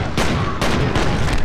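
Gunfire in the shooter game F.E.A.R., with two sharp, loud blasts about half a second apart over a dense, continuous roar of combat noise.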